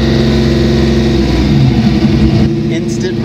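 Car engine fitted with a TMP venturiless carburetor, revving hard with a quick throttle response, loud and close under steady mechanical drone, with someone talking over it.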